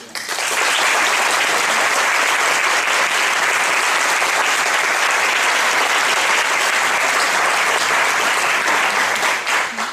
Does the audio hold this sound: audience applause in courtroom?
yes